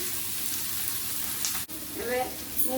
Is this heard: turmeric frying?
yes